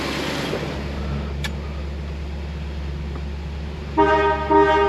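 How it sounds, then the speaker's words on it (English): A 1960 Ford Thunderbird's horn honks two short blasts near the end, over a steady idling engine and low cabin rumble. "Horn works."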